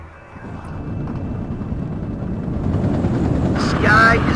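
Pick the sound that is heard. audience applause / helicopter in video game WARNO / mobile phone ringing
helicopter in video game WARNO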